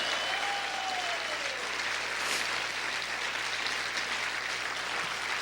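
Sustained applause from a church congregation, broad even clapping from many hands at steady loudness, with a brief sliding tone early on and a low hum underneath.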